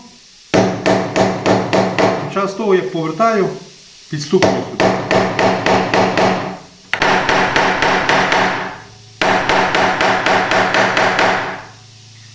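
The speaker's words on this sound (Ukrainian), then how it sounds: "собі отак придумав і так собі побиваю молотком." A hammer taps homemade templates in quick rhythmic bursts of sharp knocks, pausing between runs, with someone briefly speaking partway through.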